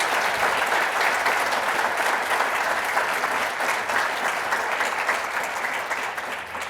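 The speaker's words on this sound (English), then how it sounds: "let's give them a round of applause." An audience at a health care annual meeting applauds panelists, dense, sustained clapping filling the room for several seconds and easing slightly toward the end, with no speech over it.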